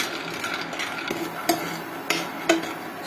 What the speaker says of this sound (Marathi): पॅन गरम झालेला आहे शेंगदाणे टाकून घेऊया शेंगदाणे भाजून काढायचे आहे